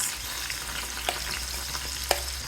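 A spoon scrapes and stirs a thick mixture of grated raw mango and spice mix in a bowl, with two sharper knocks against the side over a low steady hum.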